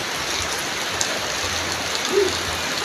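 Steady rain pattering on a surface, a dense hiss with occasional sharper drops, constant and fairly close, with no talking.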